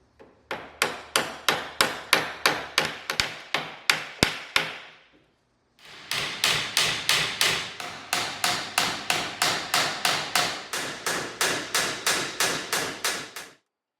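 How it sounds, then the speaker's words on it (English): Hammer riveting copper nails and burrs that fasten frames to floor timbers in a wooden boat build, with steady rapid sharp blows in two long runs separated by a brief pause, close and loud with no talking. "This kept it from bouncing around or off the nail when riveting it."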